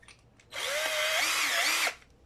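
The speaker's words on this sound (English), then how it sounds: "pre-drill with your ½ inch bit" A power drill pre-drills with a half-inch bit for a wall install, a single close whining burst of about one and a half seconds that rises and dips in pitch before stopping abruptly.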